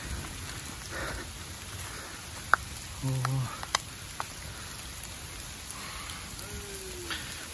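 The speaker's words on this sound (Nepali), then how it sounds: "एकदम पानी चाहिँ परिरहेछ ल पुरै ठुलो पानी आयो" Heavy rain falls on Jamacho hilltop at Nagarjun, a soft, continuous patter heard fairly faintly, with a brief voice and a few scattered knocks breaking through.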